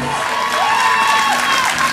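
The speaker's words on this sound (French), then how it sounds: "Un tonnerre d'applaudissements." Audience applause at a community fashion show in a Saint-Ouen neighbourhood house, showcasing homemade accessories from sewing workshops; steady dense clapping fills the room, with voices and cheering calls rising over it.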